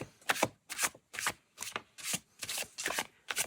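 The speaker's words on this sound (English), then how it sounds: "Overhand shuffling is super simple." Overhand shuffling of a tarot deck gives a steady, evenly spaced series of crisp papery swishes, about eight strokes, close and distinct with no voices.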